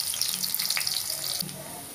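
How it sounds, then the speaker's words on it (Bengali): Onions hit hot oil for a fish curry with greens stalks and potato, giving a loud bright sizzle that eases off after about a second and a half. "তেলটা গরম হয়েছে, দিয়া দিলাম পেঁয়াজ"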